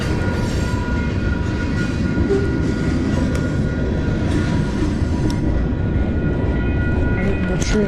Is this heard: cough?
no